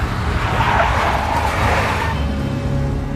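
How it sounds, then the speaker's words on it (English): A big black Mercedes in the video game Max Payne skids along with a sustained tire squeal and roaring engine, loud and close throughout. "A big black Mercedes."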